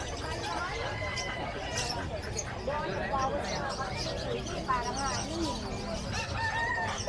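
A rooster crows amid the busy din of the Bocaue pet market, its call rising over a steady crowd noise with other birds and people talking around it.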